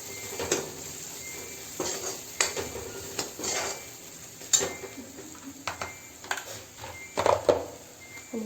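A spoon stirring asafoetida, salt and turmeric in a pan for Maharashtrian sprouted matki usal, with repeated scraping strokes and light clinks of metal against the pan over a faint sizzle, close and fairly quiet.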